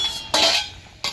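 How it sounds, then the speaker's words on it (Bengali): A metal lid lifted off a cooking pot during home vegetarian cooking, with two short clinking scrapes about a second apart, close and fairly loud, and no voices. "ঢাকনাটা এবার আমি তুলে নেব, দেখি।"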